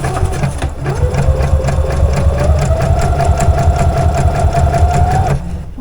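A Brother starter sewing machine sewing a wide satin stitch, running loud and close with a fast steady needle chatter and a rising whine for about five seconds, with no talking.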